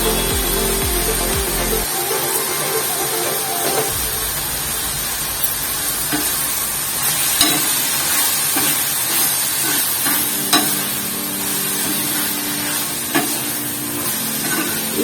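Spices for a tempering fry in ghee in a pan while a spoon stirs them, as part of making tomato ghee dal. A continuous close sizzle runs under scattered scraping and clinking strokes, with no voices.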